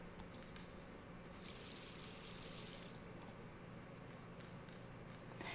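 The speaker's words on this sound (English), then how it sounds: "All that remains is to rinse the plate." Water runs steadily as a photographic plate is rinsed in the game The Last Door, a soft continuous wash that swells louder for a couple of seconds mid-way before settling back to a gentle flow.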